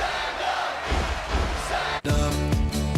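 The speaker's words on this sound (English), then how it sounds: "Can we give a rousing round of applause to His Excellency the Deputy Governor?" A large crowd at a Nasarawa investment summit roars and cheers in a sustained mass of noise, then loud music with a thumping beat cuts in abruptly and plays on.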